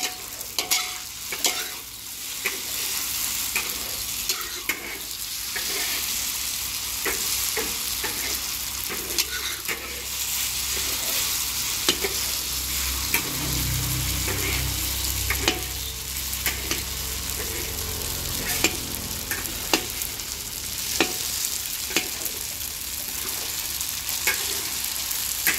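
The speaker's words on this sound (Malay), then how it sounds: "Lepas tu kita goreng dalam minyak tadi kuih tiaw tu." Crispy kuey teow noodles with egg, thick soy sauce and peanuts frying in hot oil, with a steady sizzle and repeated scraping stirs of a spatula through the wok, close and continuous with no talking.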